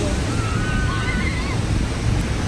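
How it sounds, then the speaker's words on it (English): Ocean waves wash onto a Los Angeles beach in a continuous loud surf roar, buffeted by wind noise on the microphone, with no talking. "Ooh, the waves are nice."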